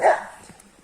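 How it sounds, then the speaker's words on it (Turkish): In snowy outdoor surroundings, a dog lets out a single loud, close bark. Faint, quiet background noise trails off after it. "Köpekler çok agresifler."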